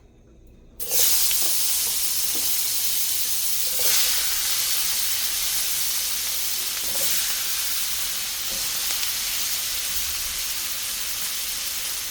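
Vegetables sizzle loudly as they hit a hot pan for roast gravy, a sudden burst of frying hiss that holds steady with a few stirring clatters and no voices.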